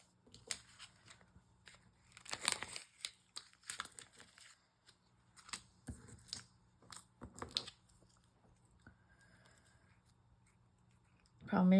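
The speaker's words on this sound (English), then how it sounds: "Where are my baby scissors?" Small scissors snip paper for a junk journal, with several short crisp cuts in irregular bursts, close and moderately quiet, alongside occasional handling of paper.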